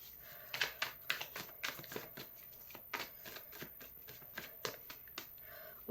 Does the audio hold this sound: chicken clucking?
no